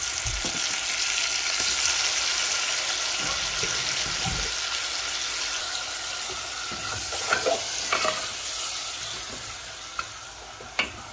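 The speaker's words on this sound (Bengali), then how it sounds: "এখন রসুনটা লাল লাল হয়ে আইছে, আমি দিয়া দিলাইলাম গ্রেট করা পেঁয়াজ" Grated onion is dropped onto browned garlic and fried in a pan, giving a steady loud sizzle with scraping stirs and a few clinks throughout, no voices.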